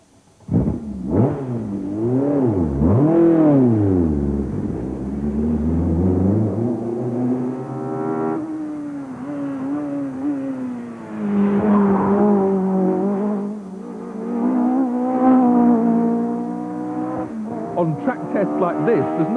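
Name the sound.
BMW touring car driven around Alton Park race circuit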